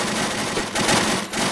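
Rapid machine gun fire rattles in the Unturned WW2 battle, a dense, loud burst of overlapping shots lasting about a second and a half, close and harsh with no talk.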